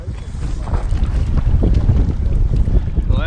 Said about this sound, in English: Well, it's a little windy out today.